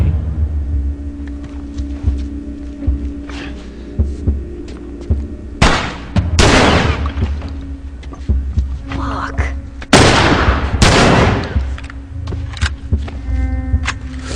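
Gunfire in The Last of Us, a weapon loosing rounds in pairs: two sharp, loud bursts several seconds apart over a low rumbling game backdrop, with occasional talk.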